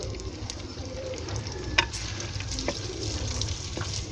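Two medium chopped onions fry in hot ghee for kachnar keema, a dense, continuous sizzle close up with a few sharp pops and utensil clicks, no voices.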